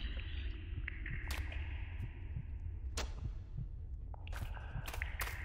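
A heartbeat effect from the Roblox horror game Survive the Night thumps softly and steadily under a droning hum, with a few sharp game clicks and whooshes cutting across it.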